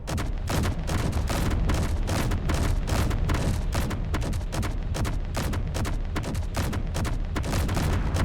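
Gatling guns fire in the video game Underground Alone, a loud, dense, continuous barrage of rapid shots and booms with no pauses, no voices over it.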